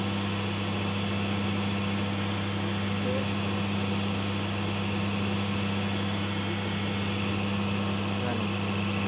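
A Caterpillar 422E-F backhoe engine runs at a steady idle while its alternator spins with no battery connected, making a constant droning hum with an even mechanical whine and no change over the whole stretch.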